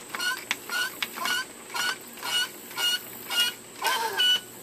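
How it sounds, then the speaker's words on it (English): A CPS 2700 water blaster being hand-pumped, heard as a steady series of about eight rhythmic squeaky strokes, close and fairly quiet, with no talking. "Now I'm going to pump it up for the last time,"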